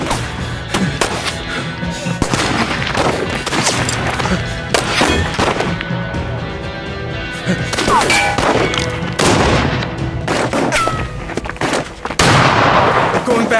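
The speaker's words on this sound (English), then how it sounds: "He's got a sniper on the fucking water tower." Sniper rifle fire in the video game As Dusk Falls rings out amid a dense, busy action soundscape, with sharp reports scattered through the clip under raised voices and tense chatter.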